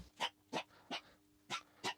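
A dog gives five short, quiet whimpering yelps in an uneven rhythm within two seconds, fairly faint and with no one talking over it.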